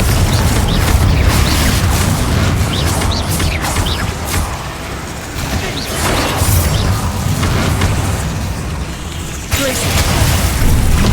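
Booming fire-spell blasts from the Confringo curse in Hogwarts Legacy, loud and dense, with repeated explosive bursts layered over continuous combat noise and a voice calling out.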